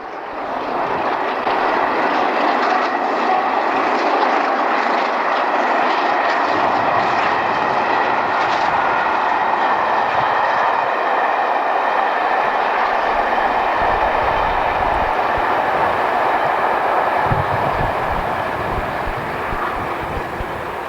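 The steam locomotive Tornado pulls out of platform 6 at Exeter St David's station with a loud, continuous roar and rumble that stays strong and steady throughout.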